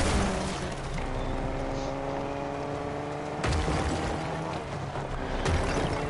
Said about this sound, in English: oh my god, I hear a car